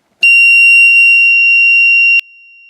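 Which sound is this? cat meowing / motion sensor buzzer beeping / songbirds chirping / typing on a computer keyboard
motion sensor buzzer beeping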